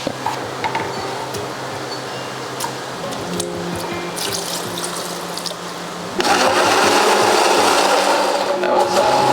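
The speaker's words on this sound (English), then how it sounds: "Let's go blend it." A blender starts up at about six seconds and runs loud and steady to the end, pureeing breakfast sausage for a dysphagia diet; before it, quieter kitchen clatter and handling sounds.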